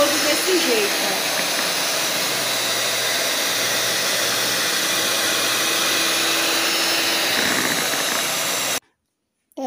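Instant coffee is beaten into a creamy whip, a loud, constant high whirring that runs unbroken for several seconds before stopping abruptly near the end; a voice may be faintly present.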